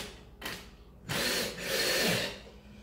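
Power screwdriver driving screws into a wooden sauna bench, heard as three whirring bursts of rising length, close and fairly loud, with short pauses between them.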